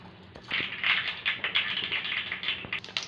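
Mustard seeds crackle and pop in hot oil in a kadai, a dense run of sharp, close spits and ticks that keeps going for a few seconds with no talk over it.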